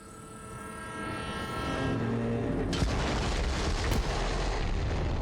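A train in Borderlands 3, rumbling in and growing louder into a dense roar with horn-like tones early on and a sharp crash partway through, no speech.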